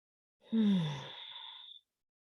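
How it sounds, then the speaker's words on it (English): A single long, deep exhale during a gentle yoga session, breathy and close, starting with a strong rush and slowly fading over about a second. "3 more deep breaths."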